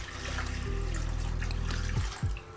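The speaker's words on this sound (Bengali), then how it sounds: "পর্যাপ্ত পানি দিয়ে দিব।" Water is poured into a pan fitted with a stand for steaming, a steady close rush of liquid that thins out near the end with a couple of light clunks.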